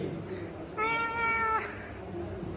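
A single drawn-out cat meow, clear and fairly close, rising out of a steady low background hum.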